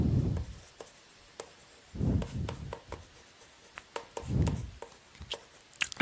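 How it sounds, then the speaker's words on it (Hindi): A teacher writing by hand during a maths lesson, with scratchy strokes and taps arriving in short bursts separated by quiet gaps, close and fairly soft, without speech. "मैं लिख देती हूँ,"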